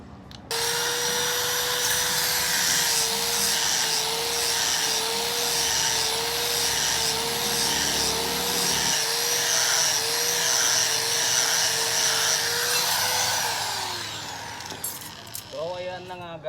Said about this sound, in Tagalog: ilinisan natin itong mga pinutol natin mga bakal gamit itong black disc para matanggal natin yung mga kalawang